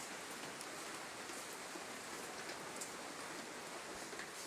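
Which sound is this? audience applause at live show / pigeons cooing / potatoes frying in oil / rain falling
rain falling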